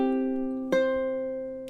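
A ukulele sustains one ringing chord for measure 17 of a Christmas song, with a second strum midway that rings on and fades, close and solo.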